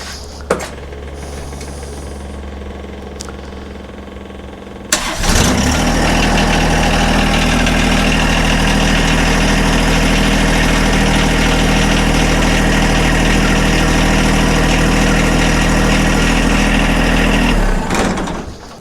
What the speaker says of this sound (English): And you can watch when I turn this on, you'll see a big cloud come out right here.